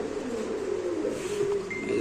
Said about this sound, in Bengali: দেখেন কবুতরটা আমরা একটু সময় দেখাচ্ছি খুব চঞ্চল এই কবুতরটা